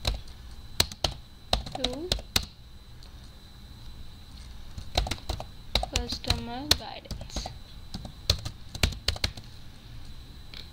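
Computer keyboard typing, a scatter of sharp key taps in short bursts, heard close and under a person's speaking voice describing a help desk support portal.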